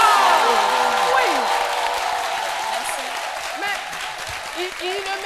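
Studio audience applause on a French-language midday television show, loud, dense clapping that fades slightly over several seconds, with a few voices and cheers mixed in.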